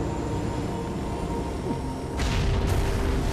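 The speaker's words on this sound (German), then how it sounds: "Alter, eine Explosion." In the video game I Am Alive, a sudden explosion swells out of a steady background rumble, a loud broad boom that holds for about a second and then fades, with no voices.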